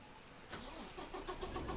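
Engine of a brand-new Kenworth truck in American Truck Simulator turning over and catching, settling into a steady mid-pitched rumble that rises slightly as it runs, close and continuous.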